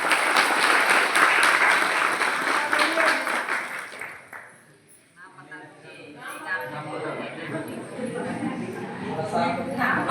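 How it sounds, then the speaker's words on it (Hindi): Applause welcoming a new district president at a meeting of part-time school cleaning staff in Jashpur, Chhattisgarh: a room of people clap steadily, fade out briefly, then talk resumes with clapping and murmurs. "तो इनको भी हम ताली से ही स्वागत करेंगे।"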